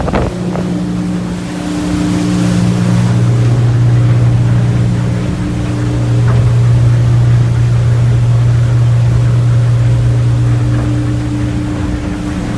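A 2021 Steiger Craft 255 DV boat cruises at 3,500 RPM. Its engine gives a steady, loud drone with wind and water rush over it, and nobody speaks.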